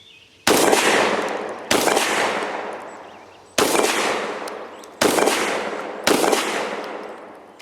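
Five loud, close blasts from an SDS Titan semi-auto 12 gauge shotgun, spaced unevenly over several seconds, each sharp report followed by a decaying echo, with no talking.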